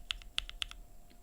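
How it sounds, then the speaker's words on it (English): Stock linear Queen mechanical keyboard switches typed a few times, three or four crisp close clacks in quick succession, quiet and alone. "Queen switches, they're linear. This is stock."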